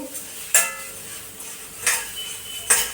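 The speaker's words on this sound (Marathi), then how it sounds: "त्याला सारखा चम्मच देत राहायचं" A spoon scrapes and clinks against a metal kadhai three times at a slow, even pace while wheat grains roast, the grains rustling softly between strokes.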